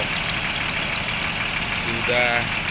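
Engine of the ALS 378 bus idling after being restarted, a steady mid-low rumble throughout, with a voice speaking over it toward the end.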